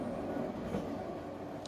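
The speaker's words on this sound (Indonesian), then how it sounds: "Jam 14:25 kereta api Bengawan sudah tiba di stasiun Lempuyangan." The Bengawan passenger train sits at Lempuyangan station with a steady, even rail rumble and low mechanical hum, and no voices over it.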